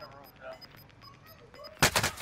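Gunfire in the Call of Duty Cold War video game: a loud, dense burst of shots erupts near the end, following quieter game sounds and faint voice-like tones.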